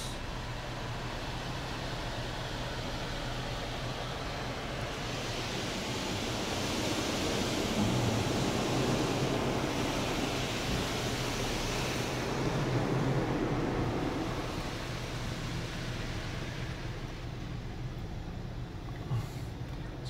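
An automatic car wash sprays rinse water over a car, a broad steady rush of water that swells and fades while passing.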